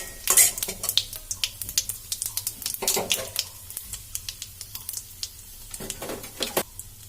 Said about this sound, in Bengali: আর দিয়ে দেবো গোটা জিরে আর একটা তেজপাতা। তো মশলাটা একটু ভালো করে গরম করে নিতে হবে।